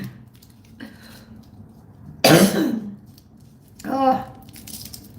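A single sharp, close cough breaks a quiet room, followed moments later by a brief throat-clearing vocal sound.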